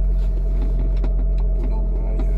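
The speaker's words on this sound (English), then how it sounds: "The exhaust system is a Record Monza, which you now hear." Abarth 595C convertible with a Record Monza exhaust in sport mode, a steady low, loud burble idling near and continuous, with a few faint clicks over it and no talk.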